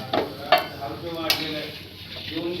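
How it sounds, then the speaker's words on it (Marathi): Grated coconut roasts in a pan for a black-masala sev curry, with a spatula scraping and clinking against the metal a few times over a soft, low sizzle. "आता छानपैकी हे भाजून घेते पहिला खोबरं"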